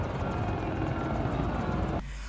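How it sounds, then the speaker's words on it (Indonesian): A helicopter arrives in a Fast & Furious action film scene, a loud dense rotor roar that fills the short clip before abruptly dropping to a quieter rumble at the end. "Tiba-tiba helikopter datang."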